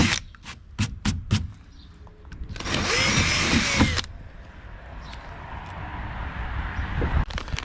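A power drill with an 8mm bit bores into a plastic boat hull, whirring loudly for about a second amid clicks and handling knocks, then leaving quieter background noise.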